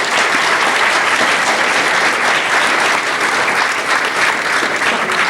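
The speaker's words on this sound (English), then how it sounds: "I'd like to give a round of applause for the students who put this together also." A campus audience at a college mayoral debate applauds the student organizers, a sustained, even wash of many hands clapping at full volume throughout, with no voices rising above it.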